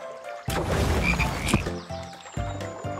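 A cartoon frog in a 3D dinosaur egg adventure animation croaks several times in quick succession, loud and close, with bursts of warbling, throaty calls and no talking.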